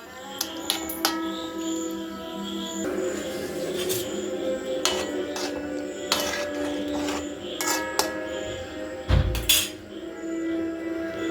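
A metal spoon stirs plantain kalan with salt and coconut oil in a pot: scattered sharp clinks and scrapes against the pan, moderately close, with quiet background hum between strikes.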